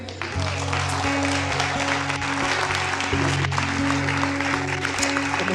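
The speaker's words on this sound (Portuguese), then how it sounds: "Vale aplaudir a Deus por essa alma?" A church congregation applauds together, a dense steady clapping that fills the whole stretch with a sustained musical tone held underneath it.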